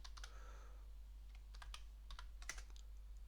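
Code is typed on a computer keyboard in short, quiet bursts of key clicks with brief pauses between them, heard alone against a low hum.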